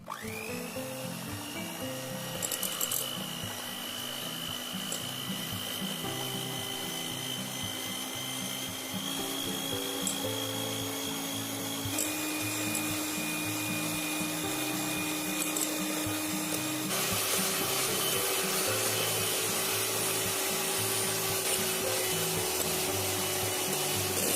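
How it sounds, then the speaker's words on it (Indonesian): An electric mixer beats cake batter of eggs, sugar and salt, stepping up through its speeds as the mix grows thick, white and fluffy; a steady whirring motor hum that shifts pitch at each speed change, with no talking. "Lalu semua bahan ini dimixer dengan kecepatan bertahap sampai mengembang kental putih dan berjejak."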